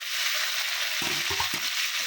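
Shrimp frying in a pan for a potol chingri dish, a steady loud sizzle with a few brief stirring scrapes partway through.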